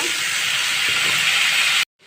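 Bitter gourd tossed into hot oil with turmeric and salt, giving a loud, steady hiss of frying for nearly two seconds before it cuts off abruptly, then a faint return.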